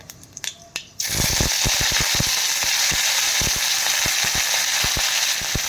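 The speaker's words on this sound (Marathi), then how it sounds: "खमंग अशी आता फोडणी करून घेऊया मोहरी टाकायची सुरुवातीला नंतर जिरे थोडेसे जिरे टाकूया आणि थोडीशा मेथ्या टाकायच्या आहेत फोडणीमध्ये" Mustard seeds, cumin, fenugreek and curry leaves hit hot oil for a tempering: a sudden loud sizzle bursts in after a second of quieter clatter, then runs steadily with rapid close popping and crackling of seeds.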